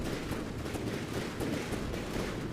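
Warship guns keep up a dense, steady roar of fire at the Sumatra in a naval combat game, with rumbling blasts blending into one another throughout.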